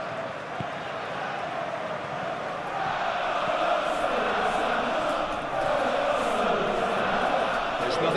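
A stadium crowd in the Football Life 2026 video game keeps up a broad, continuous roar of chanting and cheering that swells slightly partway through, steady and dense throughout.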